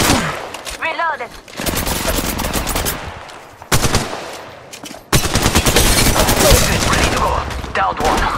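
Rapid automatic gunfire from an Apex Legends Mobile battle royale fight, loud and close, with bursts and brief pauses and occasional clicks between volleys.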